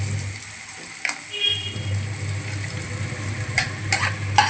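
Shredded fish is tipped into a pan and stir-fried for a fish podimas, a low steady sizzle under scraping and stirring clatters from a utensil, with a few sharp clinks against the pan near the end.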